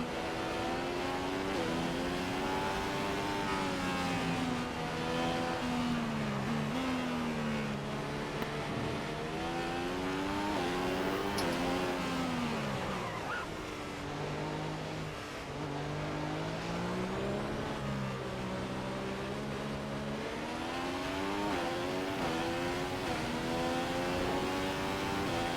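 A Formula 1 car's engine in the F1 2015 racing game at Monaco screams and revs continuously, its pitch climbing and dropping through gear changes and corners, loud and close throughout.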